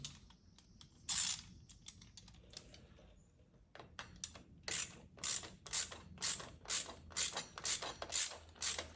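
Bolts are tightened on a Cobra air intake fitted to a Yamaha Bolt motorcycle, giving a rapid series of close ratchet clicks in quick rhythmic bursts over a quiet background.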